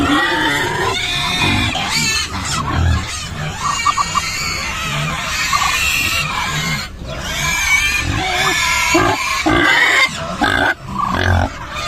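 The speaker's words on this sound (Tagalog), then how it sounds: "Yan ang mga alaga natin baboy" Pigs grunting and squealing among other farm animals, with honking ducks or fowl mixed in, loud and close in a busy yard.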